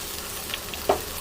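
One large chopped tomato frying with browned onions in a pan for potol chingri, a brief steady sizzle with a single sharp spatula tap near the end.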